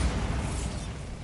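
A Bombarda spell going off in Hogwarts Legacy, one short, dense blast with a low rumbling body that stays loud through the whole brief moment.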